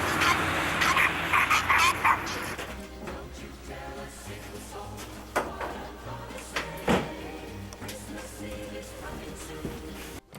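Several dogs bark, yip and whimper, loud and busy at first, then scattered barks over the following seconds, with speech and other background sounds mixed in.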